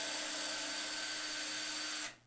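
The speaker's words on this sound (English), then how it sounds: "Get my drill here, and I'm just going to remove the back of this guitar" Power drill whirring steadily for about two seconds while backing screws out of a guitar's rear panel to expose its spring reverb, loud and close, then cutting off abruptly.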